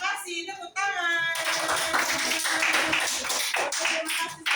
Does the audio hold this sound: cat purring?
no